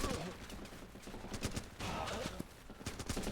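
Gunfire in the video game Running With Rifles, rapid bursts of shots mixed with busy battle noise at a fairly low level, with faint voices underneath.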